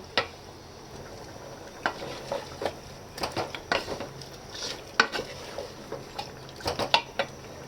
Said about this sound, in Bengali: মশলা আমার কষানো হয়ে গেছে, আমি এবার এই মাংসগুলো ঢেলে দেব।